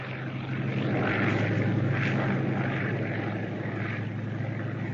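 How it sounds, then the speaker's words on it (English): A propeller scouting plane passes overhead, a steady loud engine drone that swells slightly and then holds, with no other sounds. "Scouting plane."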